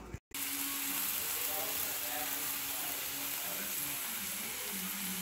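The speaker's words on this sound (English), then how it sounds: "I'm going to start on the steak." Steak frying in a hot pan gives off a steady, loud sizzle that runs continuously after a brief silent break at the start, with no talk over it.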